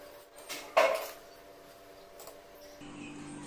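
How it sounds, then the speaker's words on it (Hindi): Homemade lasoda (gunda) pickle being put into a ceramic jar, with one sharp clink of ceramic and a few lighter scrapes and taps, close and fairly quiet, with no talking. "ये देखिए अचार मैंने बरनी में डाल दिया है"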